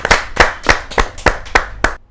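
An audience claps for a poet at a kavi sammelan, a Hindi poetry gathering, with seven loud, evenly spaced group claps in a steady rhythm over about two seconds.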